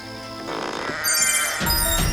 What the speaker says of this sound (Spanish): De repente, las ovejas en el corral se asustaron mucho.